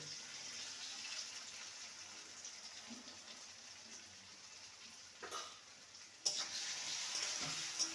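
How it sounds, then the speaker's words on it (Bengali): Potato pieces seasoned with salt and turmeric fry in a pan until browned, giving a soft, steady sizzle at low level with a couple of stirring clatters near the end. "আলুটাকে ভালো করে লাল করে ভেজে নেব"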